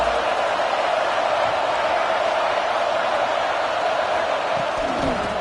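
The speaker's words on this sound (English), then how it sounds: "This crowd ready to make its presence known." A big stadium crowd at an NFL game, a steady, loud wash of roaring noise that holds evenly throughout with no single voice standing out.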